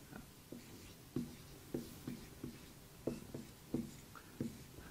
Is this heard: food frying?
no